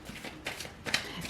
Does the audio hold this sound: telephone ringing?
no